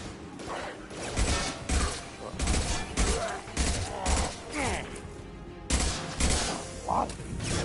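Shotgun blasts in the video game Mass Effect 2, a steady series of heavy, evenly spaced booming shots over combat noise, with a voice talking between them.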